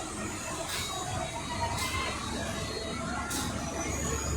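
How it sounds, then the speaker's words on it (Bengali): A passenger train starts and rolls off, heard from inside a carriage as a steady low rumble and broad hiss, with a few short bursts of higher hissing spaced across the run. "আমাদের ট্রেন এখন স্টার্ট হয়ে গেছে"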